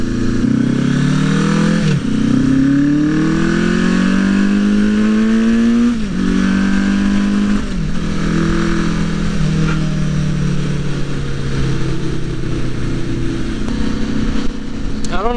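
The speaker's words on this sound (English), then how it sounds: "the bike is running better. It sounds a little bit different" A Suzuki GS850 scrambler motorcycle engine under way, heard from the rider's helmet: a loud, steady droning roar that rises in pitch through each gear, dipping briefly at every shift, with wind rush throughout.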